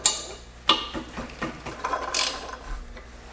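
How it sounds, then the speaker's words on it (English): Clanking metal ratchet and gear sounds of an ironworker table being loosened and shifted into center, a sharp clack at the start and another early on, then a run of lighter mechanical rattles, close and fairly quiet with no talk. "So what I'm going to do now is I'm going to just loosen up the table And center it."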